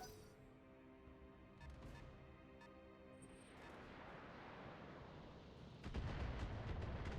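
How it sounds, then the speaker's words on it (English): Missile launchers fire indirectly in the Battletech video game, a steady rumbling barrage of dense booms that swells to a heavier, louder roar near the end. "Indirect fire from the missile launchers."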